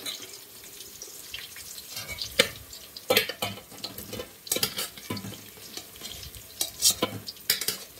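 Boiled chicken tipped into a pan of cooked onions and stirred, with irregular scraping strokes and a soft sizzle of frying underneath, close by and with no talking.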